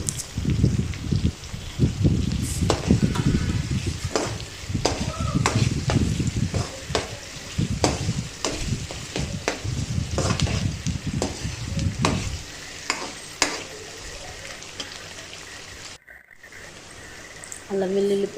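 Beetroot curry ingredients sizzle and fry in a pan with onion, green chilli and urad dal, a spatula scraping and stirring in repeated strokes over steady crackling, then quieter frying near the end while someone speaks.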